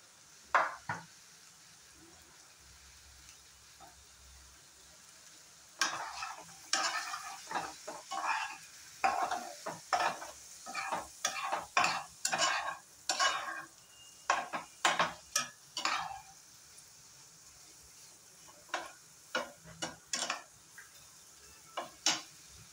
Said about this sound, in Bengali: পনিরটা একটু হালকা ফ্রাই করে নামিয়ে রাখবো